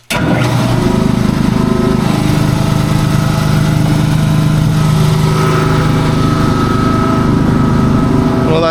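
An air compressor starts up and runs at a loud, steady engine-like chug close by, continuous throughout with no talk.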